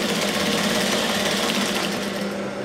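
A sewing machine stitches a blouse seam with a steady, close, continuous mechanical whir that holds the same pace from start to finish, with no voices.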